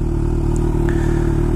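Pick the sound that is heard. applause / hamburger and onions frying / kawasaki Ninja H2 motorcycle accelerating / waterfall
kawasaki Ninja H2 motorcycle accelerating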